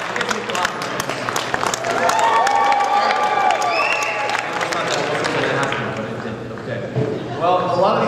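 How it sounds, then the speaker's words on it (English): Crowd at a FIRST robotics regional opening ceremony clapping and cheering loudly and steadily, with shouts and whistles mixed in throughout. "Give me a clap."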